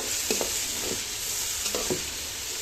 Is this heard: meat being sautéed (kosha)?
yes